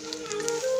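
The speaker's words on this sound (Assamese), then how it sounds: "অকল নিমখ আৰু হালধি দি পেলাই ভাজি লৈছোঁ।" Namsing, dried fermented fish, fries with salt and turmeric in a pan, giving a faint, steady sizzle with soft crackles and a thin tonal hiss over less than a second, no voices.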